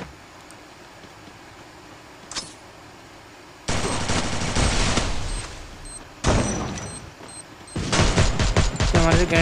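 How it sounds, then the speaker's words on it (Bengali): Gunfire and explosive bursts in a shooting video game as a grenade is thrown at an enemy: loud dense blasts start after a quiet stretch, with rapid crackling shots near the end, no talk. "তো একটা গ্রেনেড পাইছি, এটারে আমি মারবো এবার গ্রেনেড দিয়ে।"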